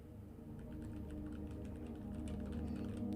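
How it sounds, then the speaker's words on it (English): Fingers type on a computer keyboard, a rapid, irregular stream of light key clicks that sits close but fairly quiet over a constant low background hum. "You can hear the keyboard."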